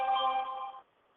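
A single electronic telephone ring sounds briefly in a quiet room, a steady tonal trill that stops abruptly.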